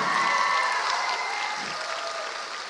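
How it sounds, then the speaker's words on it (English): Audience applause for students at a school theatre company's junior production of Matilda the Musical, a steady dense wash of many hands clapping that fades slightly toward the end. "Can we give those students a round of applause?"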